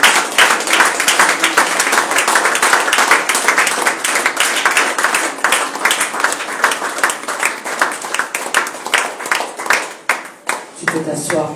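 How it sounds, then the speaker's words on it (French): A church congregation stands and applauds to welcome the Bishop into the service, loud sustained clapping with cheers that fills the room for about ten seconds before fading into scattered claps. "Est-ce qu'on peut se mettre debout pour recevoir notre papa Bishop dans la maison avec tes acclamations?"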